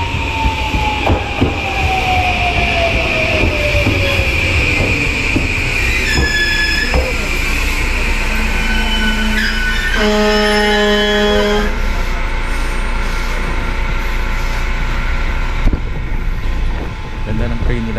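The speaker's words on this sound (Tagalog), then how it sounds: "Ganda ng train nila guys." A Kyushu Railway train from Hakata pulls into a wooden station, with steady rolling rumble, squealing wheels and bright tonal hums and whines building as it slows, and faint voices in the background.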